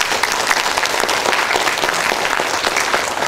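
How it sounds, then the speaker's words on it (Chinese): A large indoor audience at a corporate event gives warm, sustained applause, dense and steady clapping filling the whole stretch without pause. "再给他一个热烈掌声好不好？"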